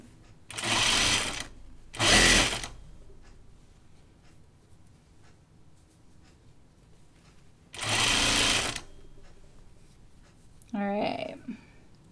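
A sewing machine stitching the cuff of a Tea House Dress runs in three short, loud bursts separated by quiet pauses, followed by a brief softer mechanical sound at the end.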